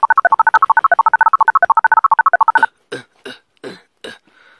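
Telephone dialing tones beep in a fast, evenly spaced string of loud keypad tones, followed by several longer, breathier bursts that sound like ringing or noise on the line.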